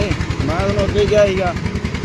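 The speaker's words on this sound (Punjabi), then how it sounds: "ਮੋਟਰਸਾਈਕਲ" A motorcycle engine idles with a steady low putter while people talk over it.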